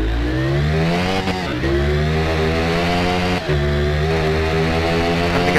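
Two-cylinder middleweight naked motorcycle in the RIDE racing game, engine revving loud and steady with rising and falling pitch and two brief throttle lifts, alone with no talk.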